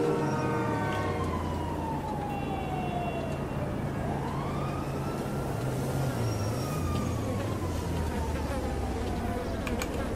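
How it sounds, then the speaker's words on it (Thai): A police siren in GTA V wails, sweeping up and down over a steady buzzing drone, continuous and moderately faint, with no talking. "ทำไมได้ยินเสียงหวอวะ"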